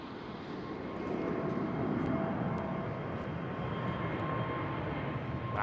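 Delta Airbus A330 with CF6 engines passing high overhead near London Heathrow, a faint, distant, smooth jet rumble that swells slightly and then holds steady throughout.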